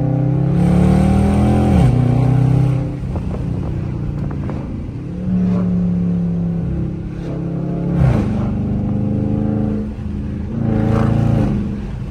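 Dodge Charger RT engine pulling away hard, a loud close-up roar that climbs in pitch through several gear changes, with dips and fresh surges of revving across the run.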